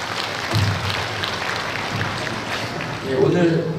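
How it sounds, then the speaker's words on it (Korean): Congregation applause and cheering at a Unification Church (Family Federation) regional worship service in Honam, a broad wash of clapping with voices shouting over it, swelling louder toward the end. "한번 우리의 교리를 담은 큰 박수와 함성을 참모님께 올리겠습니다"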